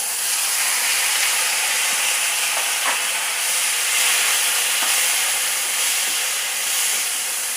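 Beans with a pinch of asafoetida hitting a hot pan in a home kitchen, giving a steady, loud, broadband sizzle that holds without break, with a few faint clicks and no talking.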